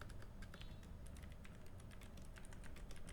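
Rapid typing on a computer keyboard, a quiet, steady stream of light key clicks over a low background hum, no voices.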